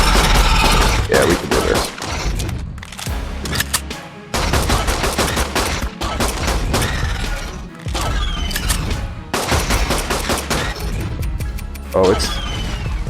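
Rapid gunfire in Ark Survival Ascend comes in long, dense automatic bursts separated by short gaps, loud and close, with someone talking over the shooting.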